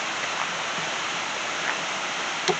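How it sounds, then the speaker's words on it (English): Steady rushing of a river swollen after a storm, a continuous broadband wash with faint splashes, heard close and alone. "check the river while we're out here"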